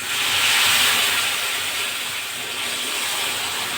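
A spiced tempering for a spicy curry sizzles and hisses loudly as water is added, a dense, steady, close hiss lasting throughout with no talking.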